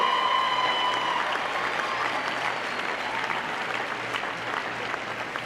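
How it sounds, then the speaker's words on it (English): A graduation ceremony audience gives a long round of applause, many hands clapping in a dense, even wash that stays steady from start to finish with no one speaking. "could I ask the graduates to give us a round of applause for the people who've been helping you pay your tuition"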